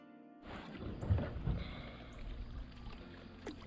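Kayak paddling on a river in wind, with steady broadband water and wind noise and low, irregular splashes from the paddle strokes, close and continuous with no talk.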